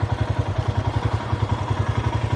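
A motorcycle engine idles steadily close by as the bike is parked at a hotel, with a low, regular pulsing thump and light mechanical clatter throughout.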